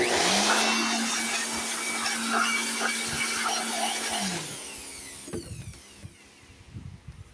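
A loud, steady whirring air blower cleans a Coffai coffee machine's grinder for about four seconds, then winds down, followed by scattered clicks and light handling noises.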